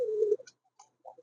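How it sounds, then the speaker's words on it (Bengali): Lakkha pigeons at a pigeon farm give one near, low cooing call that breaks off into a few soft, brief murmurs and short calls separated by quiet gaps. "আপনাদেরকে সুন্দর কবুতর দেখাবো"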